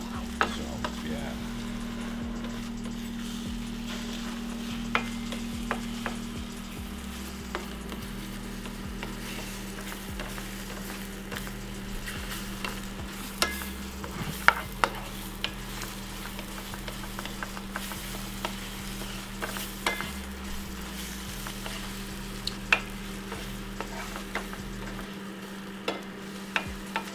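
Food sizzles steadily in an electric skillet in a hotel room while a utensil scrapes and stirs it, with sharp clicks and taps over a constant low hum.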